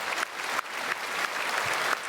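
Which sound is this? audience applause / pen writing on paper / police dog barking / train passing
audience applause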